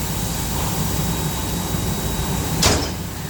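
A heavily loaded press brake tooling drawer in an industrial rolling workbench slides with one quick, smooth swoosh near the end, over a steady background hum.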